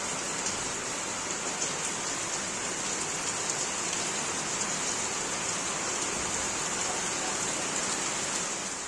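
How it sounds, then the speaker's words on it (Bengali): Heavy rain pours steadily with a dense, even hiss of drops on surfaces, unchanging throughout and with no voices. "যখন তখন হঠাৎ হঠাৎ বৃষ্টি, ঝমঝম করে চলে আসলো বৃষ্টি"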